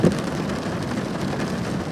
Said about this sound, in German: jetzt hält sich der Regen mit momentan mäßigen Regen